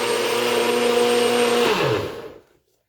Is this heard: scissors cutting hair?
no